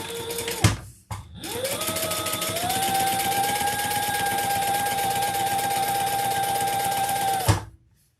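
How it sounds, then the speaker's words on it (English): A sewing machine top stitches a lining piece in one steady, loud run of rapid stitching lasting several seconds, with brief clicks and a short burst beforehand and an abrupt stop at the end. "let's turn this and top stitch on the lining piece"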